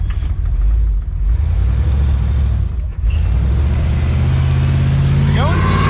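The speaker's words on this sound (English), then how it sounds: "This is a bad idea, taking this thing down the road." A Chevrolet Nova with a new engine driving down the road, a loud low rumble close by that dips briefly and then settles into a rough idle with a faint squeal near the end.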